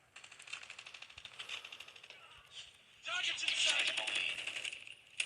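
Rapid bursts of automatic gunfire crackle in an online shooter match with lag, fast dense clatter that swells louder in the second half, with a player's voice faintly underneath.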